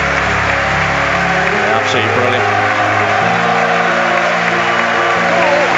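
A football stadium crowd applauds and murmurs in a steady, loud wash of noise, with someone speaking briefly over it.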